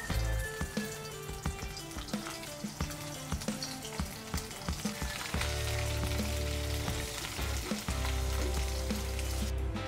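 Dried fish (tuyo) frying in a pan of oil, a steady close crackling sizzle with dense popping spatters throughout, no voices.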